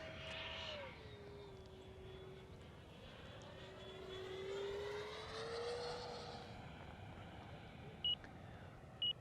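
A model T-33 jet flying at full throttle gives a faint, distant turbine whine that sweeps up and down in pitch as it passes overhead, followed by two short electronic beeps near the end.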